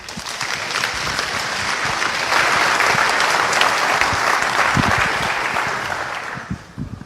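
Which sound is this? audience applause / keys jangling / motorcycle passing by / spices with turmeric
audience applause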